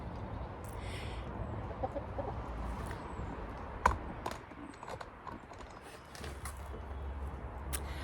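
Quiet clucks from a chicken over a low rumbling background, with a few soft clicks and taps scattered through.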